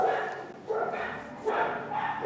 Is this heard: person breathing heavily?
no